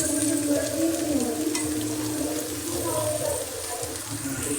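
Bitter gourd (karela) frying in a pan on a gas stove, a steady close sizzle that runs unbroken for a few seconds, fairly loud throughout.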